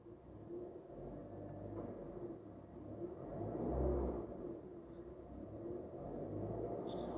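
Engine of a Honda Brio Satya facelift, a small LCGC hatchback, revved while parked: a steady low rumble that swells to a louder peak midway, then settles back to idle.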